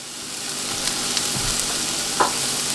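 Peppers and onions fry in a pan with a steady, even sizzle throughout, broken by a few faint scrapes and one brief clink near the end.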